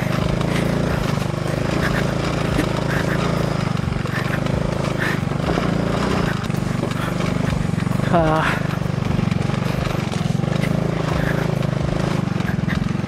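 A motorcycle with dual-purpose tires climbs a steep mountain road strewn with loose rocks toward a Benguet viewpoint, giving a continuous loud engine drone with wind rumble while a rider talks over it.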